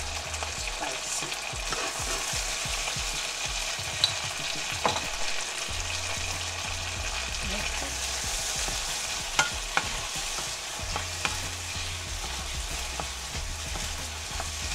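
Cucumber stir-fried in butter with garlic and chili sauce sizzles steadily in a pan, with repeated scraping and tapping of a spatula over the constant frying hiss, close up and without talk.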